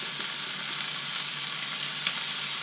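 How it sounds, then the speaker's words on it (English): Onion sautéing slowly in a pan, a steady close sizzle and hiss without voices. "So we saute it very slowly."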